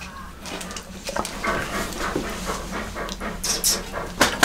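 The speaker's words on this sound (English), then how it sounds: "Got all the dogs coming over for a try." Several dogs pant rapidly and sniff close by as they crowd around for a taste of cold-weather ration food, breathy and continuous with small whimpers and shuffling.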